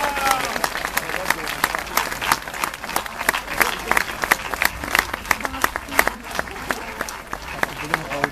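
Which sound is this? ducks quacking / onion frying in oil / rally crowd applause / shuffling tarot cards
rally crowd applause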